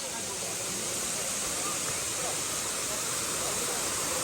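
Daranak Falls in Tanay, Rizal pours in a continuous broadband roar, dense and steady, filling the whole scene at close range with no breaks.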